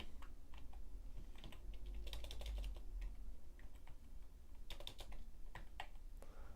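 Quiet, uneven keystrokes on a computer keyboard as a file name is typed, in short bursts with brief pauses over a faint low hum.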